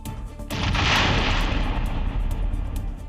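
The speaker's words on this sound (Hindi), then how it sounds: "सिलेंडर में ब्लास्ट होता है।" Gas cylinder explosion at a burning tea shop, a sudden loud blast followed by a sustained roaring rumble that slowly fades, with no voices.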